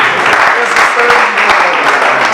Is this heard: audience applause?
yes